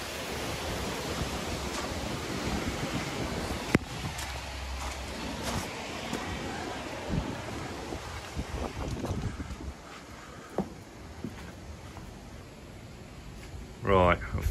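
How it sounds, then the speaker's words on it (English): Strong wind gusting and buffeting the microphone low in the Glencoe valley in Scotland near the Three Sisters mountains, a loud continuous rushing roar with sharp bumps, and a brief clatter near the end. "Look, the wind thrashing about."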